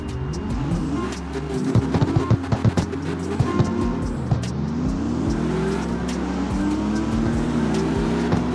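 A race car engine in the CarX Street video game drones and revs loudly without a break, its pitch sweeping up and down through gear changes, with occasional sharp clicks.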